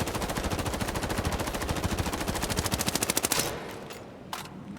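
Rapid automatic gunfire from a weapon in the video game Highguard, a steady stream of loud, evenly spaced shots for about three and a half seconds, then stopping, followed by a couple of faint clicks.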